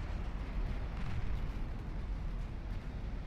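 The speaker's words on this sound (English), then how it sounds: "Oh, hello, that sounded like torpedo hits." Torpedo hits explode in the naval warship game Ultimate Admiral: Dreadnoughts as a continuous, loud, low rumbling roar of blasts with no voices.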